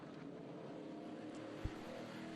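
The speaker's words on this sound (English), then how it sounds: "That's Donnie Strickland in that Monte Carlo. Sounds great." A distant stock car engine drones past at a steady pitch during a race at Sebring, with a brief low thump partway through.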